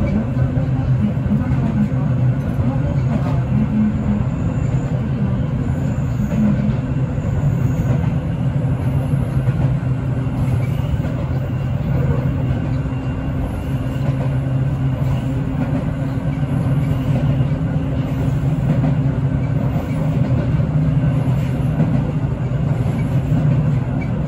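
Seibu line electric train running on a left curve where the track separates from the Shinjuku line, a steady continuous rumble with low rolling wheel noise throughout, fairly close and even in loudness.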